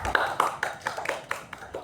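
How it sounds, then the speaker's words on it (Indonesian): A few hand claps ring out in an Indonesian classroom session for the second presentation group, a short rhythmic run of about eight claps spaced evenly and fairly close. "tepuk tangan dulu dong buat kelompok kedua"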